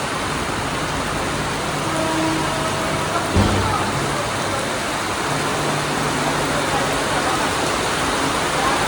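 Steady first-season monsoon rain pours down in Kurla, Mumbai, in a dense, even hiss, with a brief thump partway through and faint traffic-like rumble underneath.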